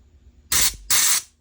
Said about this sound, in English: So we're going to spray in there.